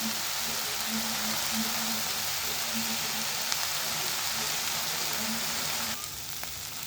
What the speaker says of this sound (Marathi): आपला कांदा मस्त भाजतोय आहे